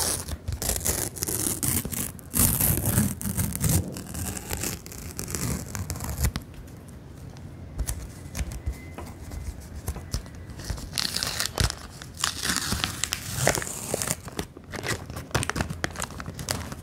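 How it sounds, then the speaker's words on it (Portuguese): Packets of 2022 World Cup album stickers are torn open up close, with crisp tearing, crinkling and rustling of wrapper paper in repeated bursts, some quieter handling between them. "Então vamos abrir agora os pacotinhos"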